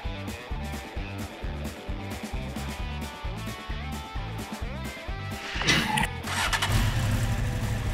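A cartoon race car's new engine starts up with a rising mechanical whir, then rumbles loud and steady under bright music.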